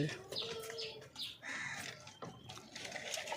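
Pigeons in a Bengali loft, their soft coos and chirps sounding close and intermittent over a faint background hiss.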